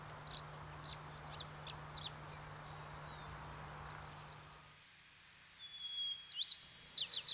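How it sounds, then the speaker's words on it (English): A tree swallow sings in a Willamette Valley spring chorus, giving short thin chirps at intervals over a low background hum, then a closer, louder run of twittering notes at the end. "Mr. Tree Swallow makes his contribution to the spring bird chorus."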